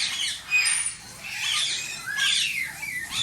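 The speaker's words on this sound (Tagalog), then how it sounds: "Yan yung Indian ringneck." Indian ringneck parrots in a breeder aviary, shrill repeated squawks and chattering calls rising and falling in close overlapping bursts with no talk.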